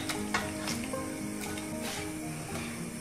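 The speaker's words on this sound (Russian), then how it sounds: "Добавляем нашу зажарку" A fried vegetable mix is stirred into a pot of homemade soup with potatoes and thin vermicelli. Steady sizzling and stirring continue throughout, close and moderately soft.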